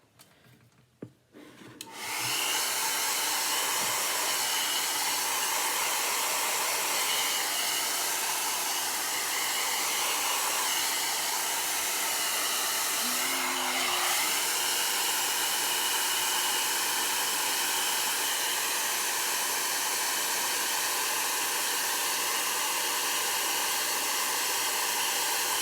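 A hair dryer blows steadily on wet chalk paste after a short fumble at the start, a loud, constant close whoosh that runs unbroken to the end with no talk.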